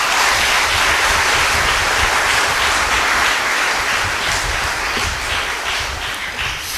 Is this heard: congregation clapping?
yes